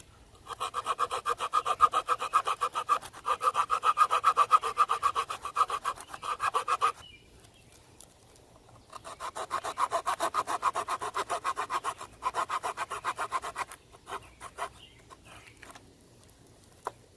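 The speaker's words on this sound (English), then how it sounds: "just keep the pliers open and open the saw and use it that way" A Leatherman Blast multitool's folding saw cuts through wood in quick, steady back-and-forth strokes, with three bursts of rasping sawing separated by short pauses, close and clear with no talking.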